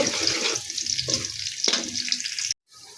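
Onions frying in a pan for ilish fish with kochur mukhi, a loud close sizzle with a few stirring scrapes, breaking off abruptly near the end before a quieter hiss resumes.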